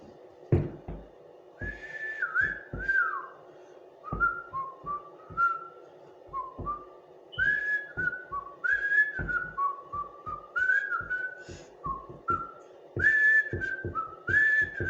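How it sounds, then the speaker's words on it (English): A person whistles the melody of The Andy Griffith Show theme, a steady sequence of clear, sliding notes carried for about fifteen seconds, close and fairly loud, with faint tapping or knocking underneath. "Can anybody whistle a song? I can. You want to hear it? Here's how it goes."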